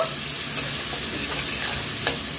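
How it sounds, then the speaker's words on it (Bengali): Chopped onions being stirred as they fry in a pan for Bengali chicken bahari, giving a steady close sizzle with a couple of brief scraping strokes of the spoon. "পেঁয়াজটা একটু নাড়াচাড়া করব,"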